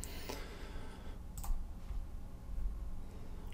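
Soft computer mouse clicks while working in Zoom, a couple of quick faint taps standing out against steady room hiss, with no voice.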